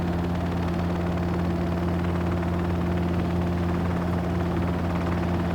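Robinson R22 helicopter engine in the X-Plane 11 flight simulator, a loud continuous drone with a strong steady hum and rotor throb, unchanging throughout with no talk.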